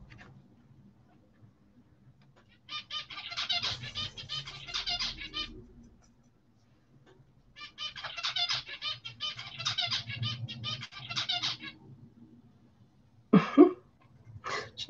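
A pet bird, a male, calls from indoors in a few bursts of raspy chattering squawks, a pause between them and a sharp short call near the end, fairly faint against a quiet room.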